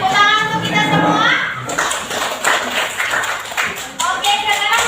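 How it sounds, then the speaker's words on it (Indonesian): A primary-school class claps together after a lesson, a burst of fairly close hand claps lasting a couple of seconds, with children's voices and a teacher talking around it. "Tepuk tangan untuk kita semua."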